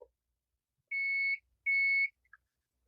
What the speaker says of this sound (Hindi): बटन प्रेस किया, ये बजर में इस तरीके से बजने लगता है